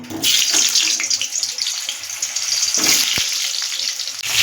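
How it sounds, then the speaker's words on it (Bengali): Diced potatoes with salt fry in hot oil in a kadai, giving a steady, loud, close sizzle that runs through the whole stretch with a few brief clatters and no talk. "এগুলো আমি ভেজে নেব একটু নুন দিয়ে আলুগুলো আমি ভেজে নেব"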